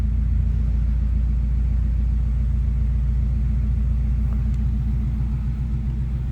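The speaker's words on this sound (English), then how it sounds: "Car fires right up each time I've started it." A 1952 Ford Customline Tudor sedan engine idles steadily with a deep, even low rumble, close and continuous, with no talk over it.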